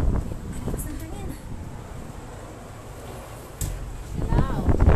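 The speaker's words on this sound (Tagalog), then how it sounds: "Ang lakas ng hangin." Strong wind near Taal Volcano buffets the microphone with a steady roar, rising into louder gusts near the end while a person talks over it.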